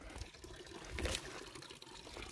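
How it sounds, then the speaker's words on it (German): Water running out of a plastic bottle at an outdoor water point on a hiking route in Bulgaria, a steady close-up gush and splash with a brief surge near the middle. "Das läuft aus einer Plastikflasche raus."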